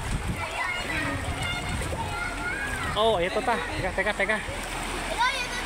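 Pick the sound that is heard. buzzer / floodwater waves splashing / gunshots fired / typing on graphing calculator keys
floodwater waves splashing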